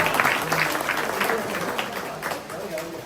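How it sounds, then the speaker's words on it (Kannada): Audience applause for a correct answer at a Kannada vachana literature quiz, a burst of clapping that starts loud and slowly thins out, with a voice speaking over it. "ಸರಿಯಾದ ಉತ್ತರ ಜೋರಾಗಿ ಚಪ್ಪಾಳೆ ಕಟ್ಟಿ"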